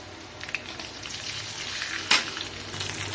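Sliced onion and ginger-garlic paste, added after whole cumin, fry in hot mustard oil with a steady close sizzle and one sharp crackling burst partway through as they are stirred.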